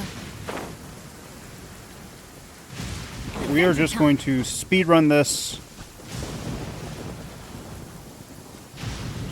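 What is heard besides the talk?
rain and thunder in the video game Genshin Impact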